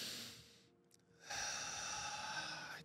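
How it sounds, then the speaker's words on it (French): Quiet breathing through the mouth: a soft, airy inhale fades into a brief pause, then a longer, steady exhale rushes out, close to the microphone. "c'est important de prendre le temps d'inspirer"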